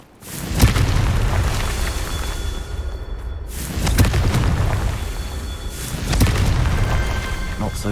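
Confringo fire spell explosions in the Hogwarts Legacy video game, three loud booming blasts about every two to three seconds, each with a sharp burst and rumbling tail under continuous game ambience.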